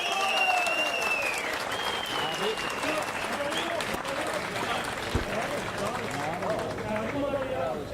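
A crowd applauds continuously at an award ceremony for a spearfishing competition, a dense patter of clapping that holds steady for several seconds.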